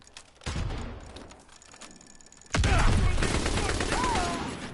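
Grenade detonations and gunfire in the World War II shooter game Call of Duty: WWII, a distant blast followed by a loud sustained burst of explosions and rapid shots, with faint talk underneath.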